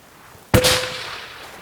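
A single sharp, loud bolt-action hunting rifle shot cracks out at an outdoor shooting range, followed by a short fading echo.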